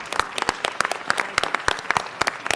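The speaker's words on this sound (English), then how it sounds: "Give him a round of applause." A city council meeting audience gives a brief round of applause honoring Musso and Frank's 100 years, with scattered, uneven hand claps from a modest crowd, fairly close and free of talk.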